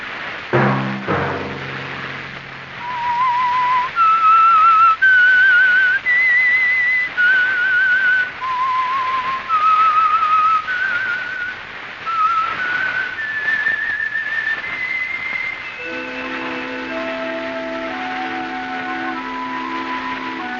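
A clear whistled melody of rising and falling notes, the signature theme of the radio program The Whistler, loud and close, with a musical accompaniment joining near the end.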